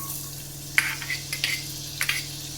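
Chopped garlic dropped into hot oil in a home kitchen pan, a soft steady sizzle with several sharper crackling bursts and light stirring clinks, close and fairly quiet.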